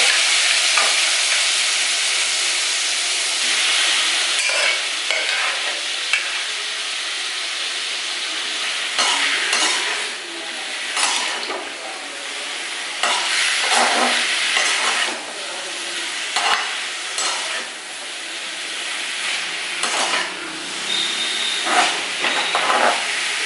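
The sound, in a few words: frying carrots in a pan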